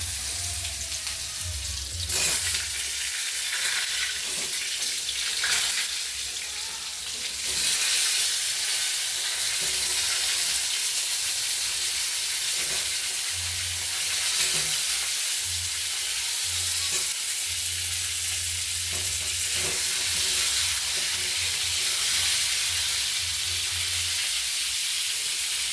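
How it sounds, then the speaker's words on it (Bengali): Slices of pointed gourd (potol) fry in hot oil seasoned with panch phoron and a little salt, giving a steady close sizzle through the whole stretch with occasional stirring clinks and soft knocks; nobody speaks. "এবার পটলগুলো আস্তে আস্তে ছেড়ে দেবো।"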